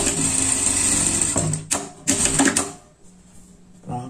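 A sewing machine runs steadily, closing a dart seam on a pet outfit, then halts and restarts in a few short bursts before falling nearly silent.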